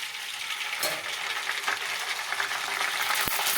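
A steady, crackling sizzle of sago pearl papad frying in hot oil, with a few faint clinks partway through.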